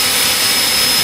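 EGO battery leaf blower running with a long nozzle tube attached, a loud, steady roaring rush of air, close and uninterrupted.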